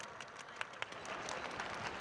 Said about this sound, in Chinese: 先给岳振华掌声鼓励好吗？